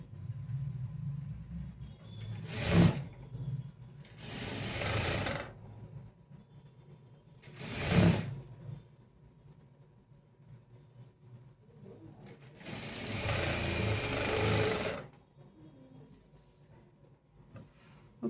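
A sewing machine stitching a blouse gives several separate bursts of rapid mechanical whirring, the longest lasting about two seconds, with quieter gaps between them.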